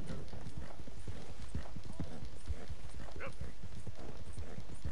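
Horse hooves clip-clop in a quick steady rhythm in the video game Red Dead Redemption 2, loud and close, with a faint voice-like sound or whinny briefly in the mix.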